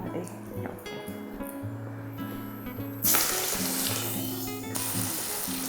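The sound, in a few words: banana flower ambode fritters frying in hot oil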